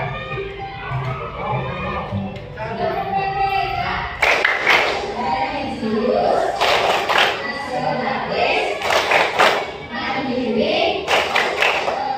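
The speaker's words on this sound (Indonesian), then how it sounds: "Tepuk PPK." Schoolchildren in a classroom perform a rhythmic group clapping routine, bursts of sharp claps and slaps in patterned sets, with children's voices chanting along between and over the beats.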